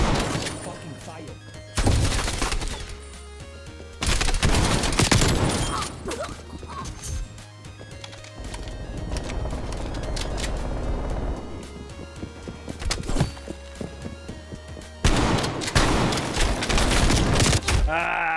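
Gunfire in a video game comes as loud bursts of rapid shots and crashing impacts with quieter gaps between them, mixed with a player's excited talking.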